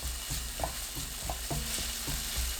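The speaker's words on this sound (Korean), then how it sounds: "팬에 식용유 1큰술, 다진 마늘 반큰술, 파 넣고 중불로 20초 볶아주세요." Minced garlic and chopped scallion stir-fry in a tablespoon of cooking oil in a pan over medium heat, giving a steady close sizzle broken by repeated light scrapes and taps of a utensil stirring, with no voices.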